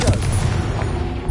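Confringo blast spell in Hogwarts Legacy, a loud booming burst with crackling gunfire-like rumble packed into a short dense moment, close and forceful with no speech over it.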